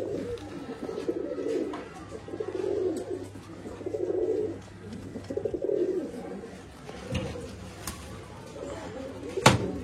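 Pigeons at a Bangalore pigeon sale, cooing up close in a run of repeated low, rolling calls, followed by a few sharp knocks and clatters toward the end.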